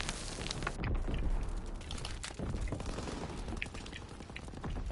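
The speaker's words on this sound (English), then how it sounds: "I'm gonna get blown by that grenade" Dense, rumbling bursts and crackling gunfire roll through a Call of Duty WWII match against bots, with a heavy boom near the start in a loud, chaotic battle mix.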